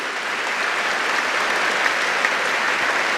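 A congregation at a Catholic priest's talk breaks into dense, even applause that holds steady for a few seconds, many hands clapping together at close range.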